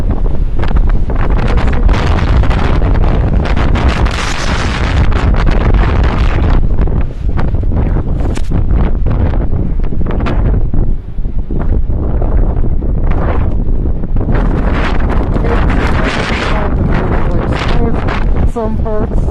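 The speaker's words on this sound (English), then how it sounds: "it's really windy" Strong wind in a big snowstorm, a loud, constant roaring buffet of gusts hitting the microphone for the full stretch, with a person talking at points underneath the rumble.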